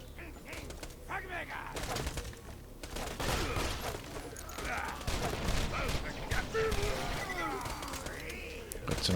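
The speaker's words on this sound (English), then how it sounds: "Got some good Grog nozzle shots off there." Grog Nozzle gunfire in the Borderlands 2 video game, a dense stream of overlapping shots and impacts running steadily throughout amid busy in-game effects and faint chirping.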